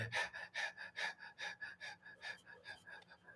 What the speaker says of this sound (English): And we just pant like a dog, pumping with the navel, equal inhalation